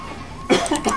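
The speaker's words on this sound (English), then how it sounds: "going into a coughing fit" A game character's short coughing fit during a Payday 3 heist, two or three rough coughs bunched in about a second, close and fairly loud.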